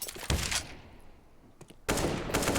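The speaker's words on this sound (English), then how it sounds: "He keeps that MP9 rattling off those little 9mm" MP9 submachine gun firing in a CS:GO Dust2 match at an esports tournament, two loud rapid bursts separated by a short quieter gap.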